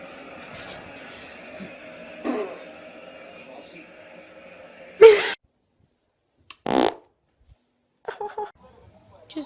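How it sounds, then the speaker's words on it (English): A girl lets out a loud, abrupt fart close by, with a few short bursts amid room noise and people talking, followed by a quieter sputter. "God, I farted."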